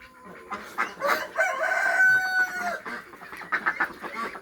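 A rooster crows loudly in a long drawn-out call, mixed with steady clucking and busy farmyard bird chatter all around.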